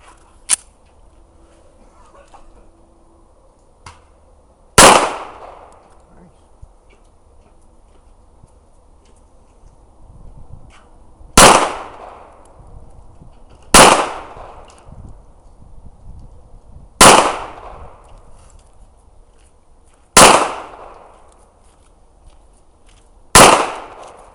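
Six sharp 9mm pistol shots ring out one at a time at uneven intervals, each a loud crack with a short decaying tail, over a quiet outdoor background.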